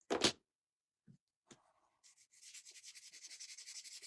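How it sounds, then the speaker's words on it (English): Small craft miniature house pieces are sanded by hand, giving a quiet, rhythmic scratchy rubbing of short strokes in the latter half. It is preceded by a few soft knocks and a brief louder rustle. "These have to be sanded a little bit."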